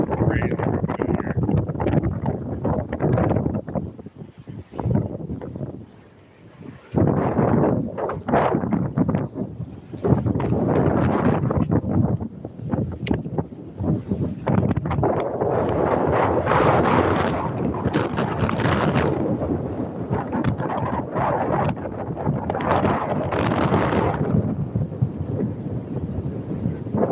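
Strong wind buffets the microphone aboard a small fishing boat, coming in heavy gusts and rumbles that rise and fall across the whole stretch, with someone talking over it at times.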